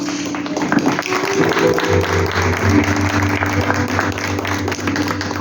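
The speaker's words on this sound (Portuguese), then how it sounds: "Pode se assentar aplaudindo o Senhor" A church congregation applauds steadily together, a dense even patter of many hands over sustained low keyboard-like tones, with no break for the whole stretch.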